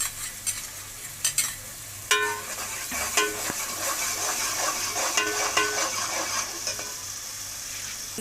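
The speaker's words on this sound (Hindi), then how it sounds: "अब इस मसाले में हमने थोड़ा सा दही डालेंगे इसके अंदर ज़ायके के लिए" Yogurt stirred into frying masala for a chicken dish, with a continuous sizzle and repeated sharp spatula scrapes and knocks against the pot, close and uneven, no voices.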